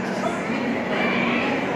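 Train pulling into Kanpur Central station, a steady low rumble and rolling hum throughout with a faint whine above it, close and continuous, with a voice talking over it.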